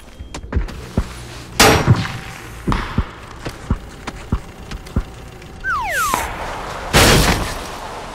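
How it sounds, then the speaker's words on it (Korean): Gunfire in PUBG: Battlegrounds crackles in sharp single shots spread over several seconds, with a few heavier booms and a vehicle engine sweeping past midway, all fairly loud and close. "총소리 나요."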